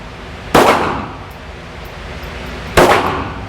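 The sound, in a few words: gunshots fired at a shooting range target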